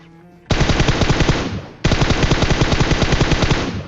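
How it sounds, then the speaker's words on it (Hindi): Automatic gunfire in the mobile battle royale game PUBG Mobile: two long, loud bursts of rapid shots, the first starting abruptly and running over a second, then a brief break before a second sustained volley. "अब यार इस बंदे ने सबसे पहले तो हमको बोट फायर दिया टैप टैप करके"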